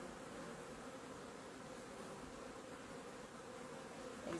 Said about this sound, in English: now they've all started fanning on the top, because they realise that their queen is back, and so they're fanning